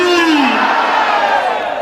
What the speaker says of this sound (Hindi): ये ताली तो होनी चाहिए आप सबके माध्यम से पीछे वाले हनुमान जी महाराज की।